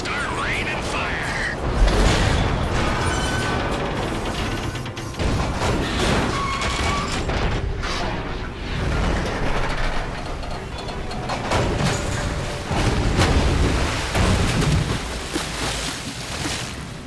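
A train being blown up during a mission in Grand Theft Auto V, a dense, loud mix of crashing impacts, booming blasts and rushing noise that surges in waves throughout.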